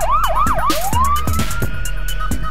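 Ambulance siren from the emergency-dispatch video game Emergency HQ, wailing in fast rising-and-falling sweeps before settling into a long climbing tone, loud and continuous over a low rumble.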